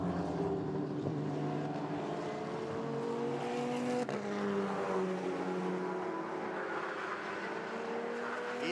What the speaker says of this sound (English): Manat doesn't have a problem at all gunning the engine.